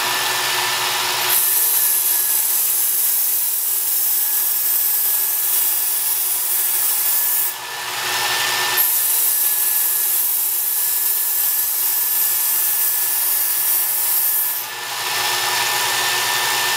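A Work Sharp Ken Onion Edition variable-speed belt sharpener grinds a knife blade in long passes, a loud close whirring hiss with a steady motor tone, broken by two brief dips between passes.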